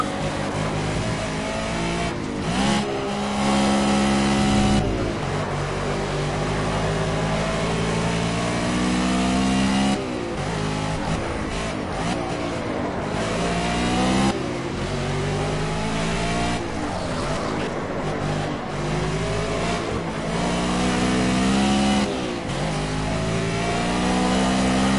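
Race car engines in the Project CARS racing game roar and rev continuously, rising and falling through gear changes with loud, close mechanical whine across the whole stretch, no talk present.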